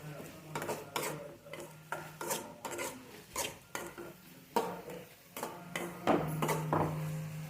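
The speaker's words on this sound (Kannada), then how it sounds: "ಮಸಾಲ ಪೌಡರ್ ಇಷ್ಟನ್ನು ಆ್ಯಡ್ ಮಾಡ್ಕೊಂಡು ಚೆನ್ನಾಗಿ ಮಿಕ್ಸ್ ಮಾಡ್ಕೋಬೇಕು" Spice powders, cumin and coriander, being mixed into fried ridge gourd chutney in a pan: repeated scraping, rasping strokes of a spoon against the pan in a steady rhythm, close and fairly loud, with no talk.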